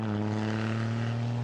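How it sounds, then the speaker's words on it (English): A 1939 Talbot Lago T23 racing car with a 4-litre six-cylinder engine braking hard at a hillclimb, heard as a steady, loud, droning engine note with strong low harmonics over a short stretch, no voices. "It's T23 with a 4-litre 6-cylinder engine, little axle hop as he gets on the brakes hard."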